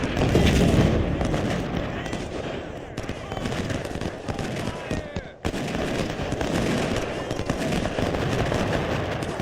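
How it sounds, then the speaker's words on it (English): Artillery and musket fire in the Civil War strategy game Ultimate General: Civil War, dense overlapping booms and crackling volleys that are continuous and loud, with a commentator's voice talking over the battle. "Make sure our artillery's firing where we want it to."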